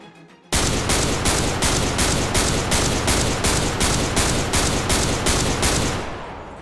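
Rapid semi-automatic weapon fire in Halo Infinite at about 165 rounds per minute, a steady burst of roughly a dozen loud, evenly spaced shots over continuous gunfire roar, fading out at the end.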